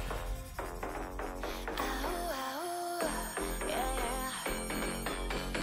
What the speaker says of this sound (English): I like the fire alarm ringing.